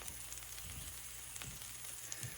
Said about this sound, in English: Now I'm cooking it with olive oil and all of those spices that I showed you.